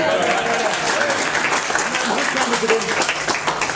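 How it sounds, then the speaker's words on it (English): An audience applauds a volunteer at a magic show, brisk dense clapping from a room full of people, steady and close, with some voices mixed in. "Give him a big round of applause."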